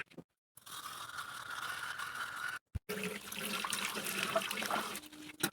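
Water runs steadily from a tap for bathing, stopping briefly twice before gushing again, with faint mechanical clicks mixed in; no talking.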